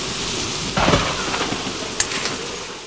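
Steady heavy rain pours with a rumble of thunder and a sharp crack, loud and close, in a stage play scene with no talking.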